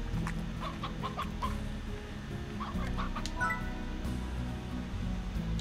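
Chickens clucking in the Slime Rancher video game, a steady run of short repeated clucks over a continuous low background hum, moderately loud throughout.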